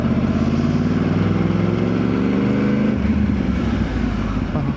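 A Yamaha R1 sport motorcycle engine being revved with the throttle, a loud, steady, buzzing roar that holds high, then drops in pitch and settles into a rougher idle near the end, close up with no talk.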